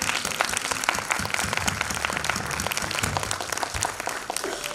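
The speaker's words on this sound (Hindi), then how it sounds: "एक जोरदार तालियां" An audience at a book launch breaks into loud applause, a dense wash of many hands clapping together that tapers slightly near the end.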